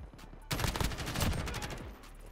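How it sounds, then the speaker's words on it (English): A called-in airstrike in a shooter video game erupts suddenly after a quiet moment, a rapid fusillade of blasts and gunfire-like bursts lasting under two seconds before tapering off. "that was probably the wrong place to call in my airstrike"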